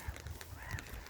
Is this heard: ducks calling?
yes